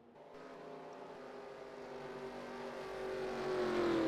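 Race car engines droning on a track in a cup-series racing game, a steady harmonic roar that swells and climbs in pitch as the cars pass by.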